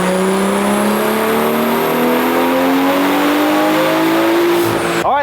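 A tuned car fitted with a JB4 tuner making a full-power dyno pull, engine revving loudly and climbing steadily in pitch for about five seconds before cutting off abruptly.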